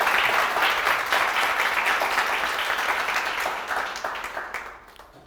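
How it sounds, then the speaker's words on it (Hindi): Applause from an audience at a law coaching class event in honour of a successful judicial exam candidate, a dense patter of many hands that carries steadily and then fades in the last second. "एक बार फिर अनिमेश के लिए ताड़ियों की गड़गड़ाहट होनी चाहिए।"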